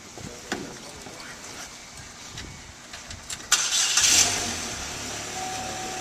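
A car engine cranks and catches on a cold day, rising into a steady idle after a few seconds of quiet clicks and handling noise.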